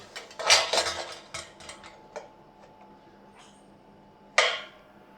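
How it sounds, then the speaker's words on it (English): A metal lid is set back onto a homebrew beer keg, giving a cluster of clanking, rattling metal contacts at the start, a sharp click around two seconds, and a final loud clack as it seats, close and with no talk. "now we'll just replace our lid"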